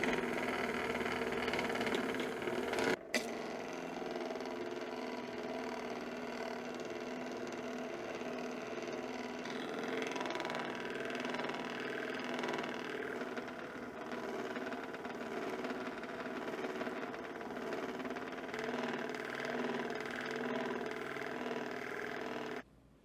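A lap grinder at a low speed setting polishes a cut agate slab, giving a steady, moderately quiet motor drone with a faint grinding texture that runs unbroken throughout, marked by one sharp click near the start.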